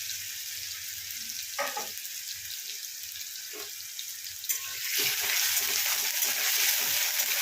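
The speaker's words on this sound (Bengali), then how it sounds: "একটু তেল আঁচে দেবো, দিয়ে একটু ভালো করে ফ্রাই করে নেব" Oil sizzles steadily in a pan over heat while prawns are fried for chingri bata, a broadband hiss with a few soft stirring knocks, growing louder and denser in the last few seconds.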